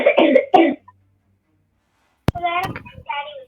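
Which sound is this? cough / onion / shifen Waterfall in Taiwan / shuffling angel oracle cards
cough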